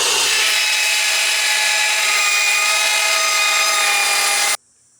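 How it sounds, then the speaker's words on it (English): A bandsaw cuts through an aluminum strip with a loud, steady, high-pitched metallic whine that holds for about four and a half seconds, then cuts off abruptly into near silence. "I cut that aluminum with the bandsaw into a strip"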